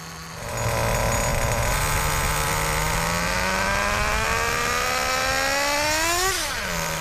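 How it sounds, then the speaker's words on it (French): An HPI nitro-powered RC car engine starts up and runs alone, its high buzzing whine climbing steadily in pitch as the throttle is slowly opened to maximum, then dropping sharply near the end when it is eased off. "amorcer et démarrer le moteur. Augmentez ensuite les gaz très lentement jusqu'au maximum avant de le réduire"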